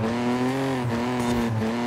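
A car engine in Forza Horizon 5 drones steadily at close range with a strong, even hum, while brief tire squeals and a slight rise in revs break through; no one speaks.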